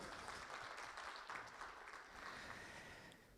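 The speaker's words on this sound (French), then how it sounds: "Vos applaudissements," Audience applause at a WAPES Tunisia 2024 panel session, a steady wash of clapping from a seated crowd, fairly faint and even, lasting a few seconds without talk.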